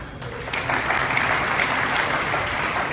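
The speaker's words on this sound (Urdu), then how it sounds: "ہم محبت اور عقیدت میں لپٹی ہوئی تالیوں میں اپنے اس معزز خاندان کو رخصت کریں گے۔" Audience applause for a family at a Christian family-life celebration, a steady, dense burst of clapping from a large crowd, loud and sustained throughout.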